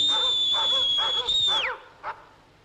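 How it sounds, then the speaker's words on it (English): A dog whimpers and yips in a long high whine lasting over a second, then breaks off, followed by one short bark-like yelp; close and fairly loud, no talk. "you wait till you reckon they're about to stop barking"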